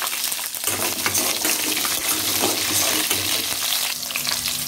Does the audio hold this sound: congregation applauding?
no